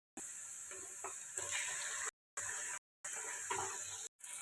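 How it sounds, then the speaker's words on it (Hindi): Chicken pieces dropped into a pan of golden-fried onions, hissing with a steady sizzle that cuts out briefly twice, close and moderately loud with no talking. "अब मैं इसमें डालूँगी चिकन।"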